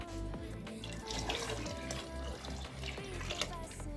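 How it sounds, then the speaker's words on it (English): Tap water runs steadily into a pot of overnight-soaked beans during rinsing before cooking, a close continuous splashing pour with no talk over it. "Let me add more water."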